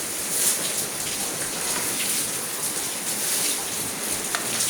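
Steady rain pours down and is caught in a bucket, a dense, even patter of drops hitting the water and surface close by, continuous and without speech.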